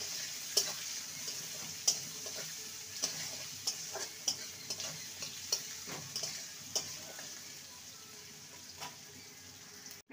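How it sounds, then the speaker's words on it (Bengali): Chopped onion and a bay leaf fry in oil with a steady, close sizzle, broken by sharp spatula knocks against the pan roughly every second. "একটা দিয়ে দেবো তেজপাতা, পেঁয়াজ কুচি, পেঁয়াজটাকে ভেজে নেব"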